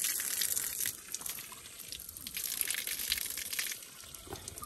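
Cold water gushes steadily from a pipe in a village on a hillside walking route, a broad splashing hiss holding close and fairly even with small surges, no talk over it.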